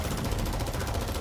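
Rapid gunfire in the Mortal Kombat X fighting game, a dense continuous burst of shots lasting about a second, loud and steady.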